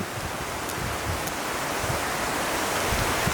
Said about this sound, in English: just as I finished it, started pouring rain